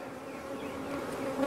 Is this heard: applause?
no